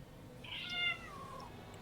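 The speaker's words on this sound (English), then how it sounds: "She's very whiny. As is every cat." A cat gives a single whiny, drawn-out meow that rises then slides downward, close and fairly clear over a low steady background hum.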